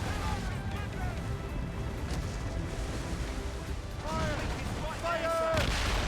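Ship cannons boom in Assassin's Creed: Rogue, heavy muffled blasts and rumbling under a noisy naval battle, with voices shouting over it and sharp whistling tones near the end.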